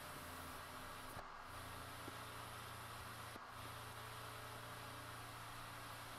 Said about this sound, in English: I'll switch on the pump and suck this down.